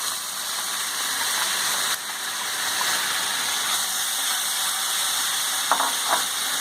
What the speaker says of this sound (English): Now, after stirring it a little, we add in our chopped onions.